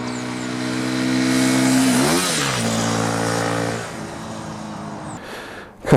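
A BMW F850 GS motorcycle engine drones loudly while riding, its pitch climbing, then dipping and rising again as the rider shifts, before easing off and ending in a short burst of wind noise.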